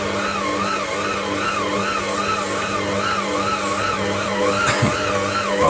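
A kitchen stand mixer motor kneads pizza dough, giving a steady, close mechanical whine with a slow wavering pulse as the load shifts, continuous throughout.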